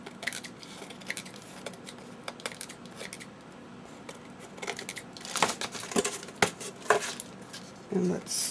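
Small, close snips and scrapes come from cutting glued material to fit a stamping tool, irregular crisp clicks and rustles that grow busier and louder toward the end, with faint talk in the background.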